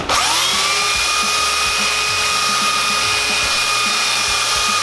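A loud power sander drones continuously up close, its high motor whine steady while the pad scrubs against a wooden box with faint rhythmic rasping.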